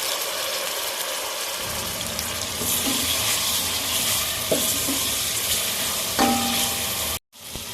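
Onions frying in a pan until light brown: a steady, even sizzle with a few scrapes of stirring. It is close and continuous and cuts off briefly near the end.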